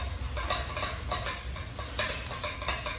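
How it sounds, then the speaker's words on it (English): Minced meat sizzles and crackles in a hot pan while being broken up and stirred, a steady close fry with bursts of scraping through the few seconds, no talk. "Just break up all your mince and let that start cooking through."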